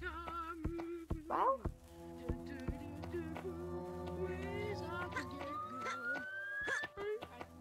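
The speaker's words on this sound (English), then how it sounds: "That's a siren." A siren sound in the video game Gorilla Tag, a long rising wail that climbs steadily over several seconds, mixed with scattered clicks, taps and game noises while players chatter.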